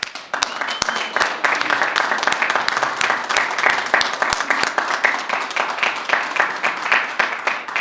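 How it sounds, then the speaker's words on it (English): A press conference crowd applauds teachers steadily and warmly, dense clapping that holds for several seconds with a few sharper claps standing out near the front. "So I really want to give a big round of applause for our teachers."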